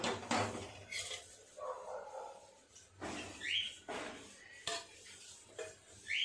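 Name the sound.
wok set on the stove and oil poured in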